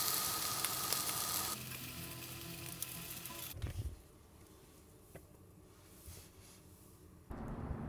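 Sausages with peppers and onions fry in a pan at a campsite, with a steady close sizzle that drops sharply in level about halfway through and then swells again near the end.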